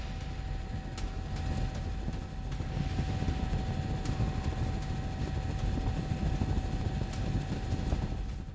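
Helicopter crash into water off Rhode Island in news footage: a steady, loud rotor and engine rumble with broadband wash continues throughout, a constant drone with no talk.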